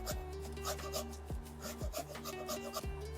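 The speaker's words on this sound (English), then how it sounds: "Microplane your garlic." Garlic grated on a microplane for tom yum shrimp, a close, quiet rhythmic rasping of repeated strokes, each scrape sweeping down in pitch, about six passes with no talking.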